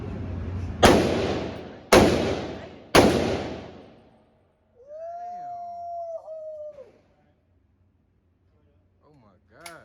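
Three loud, sharp gunshots from a Glock 43x pistol and a 300 Blackout rifle ring out about a second apart at an outdoor gun range. Each blast has a long decaying tail, followed by a whooping shout and then quiet.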